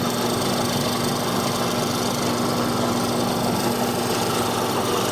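A drill press fitted with a mortising chisel runs steadily while cutting into wood, giving a loud, close, continuous motor whine with a constant hum and gritty cutting noise throughout.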